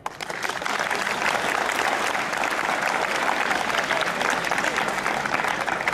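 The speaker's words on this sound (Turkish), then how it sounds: "Çok kuvvetli bir alkış istiyorum." A school audience claps strongly for two high school students, a dense and even burst that rises quickly and then holds at full strength for several seconds.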